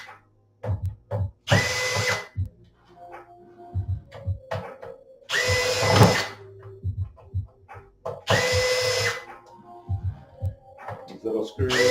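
A cordless drill backs screws out of an arcade main board in repeated short whirring bursts, each a second or so long, separated by clicks and handling noise, with brief speech between.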